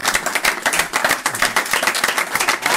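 A church congregation claps together during a lively service, dense rhythmic applause filling the room and fairly loud, with faint voices beneath.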